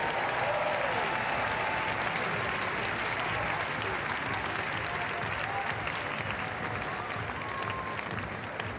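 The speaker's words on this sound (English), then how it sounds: "Jakob Schubert will enjoy that moment as the crowd go crazy." Spectators at a men's bouldering and lead climbing final at the European Championships in Munich erupt in dense, continuous cheering and applause, a loud, sustained roar that fills the arena evenly.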